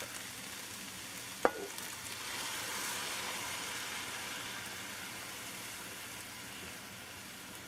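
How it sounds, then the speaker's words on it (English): Vegetable rice with coconut milk sizzles and fries in a pan, a steady crackling hiss with a sharp click near the start, close and moderately loud with no talking. "you start to hear that sizzle at the bottom of the pan"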